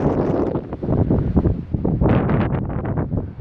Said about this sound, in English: It's still a bit windy, so I'll try and get out of this wind